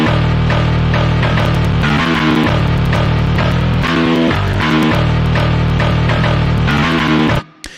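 Virtual eight-string metal guitars and a bass, programmed in FL Studio, combine in a loud, dense, distorted wall of chugging riffs that runs steadily before cutting off abruptly near the end.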